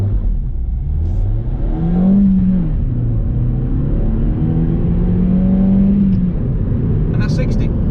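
A Suzuki Swift Sport accelerates in a 0 to 60 run, its mid-pitched engine note rising and shifting through gears from inside the cabin with constant road roar underneath.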